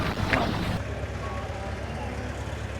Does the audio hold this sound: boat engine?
yes